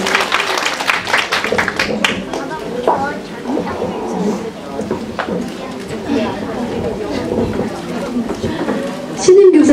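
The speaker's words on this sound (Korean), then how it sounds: "우리 박수로 한번 모셔볼까요?" Audience in a church seminar for new preschool Sunday school teachers applauds to welcome the guest speaker, steady clapping mixed with crowd chatter throughout, swelling louder near the end.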